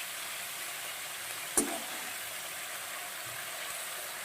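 Fresh tengra fish curry masala sautéing in a pan gives a constant, even sizzling hiss, broken once by a brief clink of a utensil against the pan.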